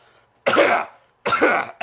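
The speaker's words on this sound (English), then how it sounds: "I always have to clear my throat" Two short, forceful throat clearings close to the mic, separated by a brief silence.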